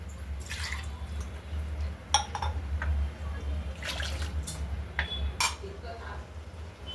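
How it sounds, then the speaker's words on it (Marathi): Water is poured into oily masala in a cooking pot for a village-style spicy dubuk vadi curry, with soft dripping and a few clinks of utensils against the pot over a steady low hum. "आता आपण याच्यामध्ये गरजेनुसार पाणी घालून घेऊ."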